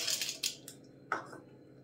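Peanuts dropped into a steel mixer grinder jar give a few quick rattling clinks, a light cluster at first then a fainter scattered patter, with a brief sharper tap after a pause.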